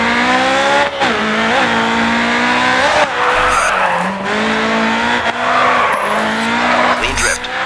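A race car drifts in GRID 2, its tires squealing and skidding almost without a break while the engine whines and revs underneath, loud and close.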